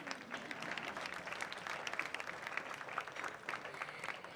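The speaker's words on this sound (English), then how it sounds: "applause again." Audience applause at the CMC Vellore 2018 gala celebrating the college's 100th anniversary and founder Ida Scudder, a dense, sustained clapping from a large crowd filling the hall at moderate volume, without pause.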